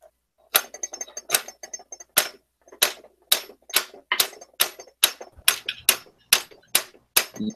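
Hammer tapping on parts during assembly of an AR15 rifle, a long run of sharp metallic strikes at a fairly steady rhythm, close and clear, with no talk over them.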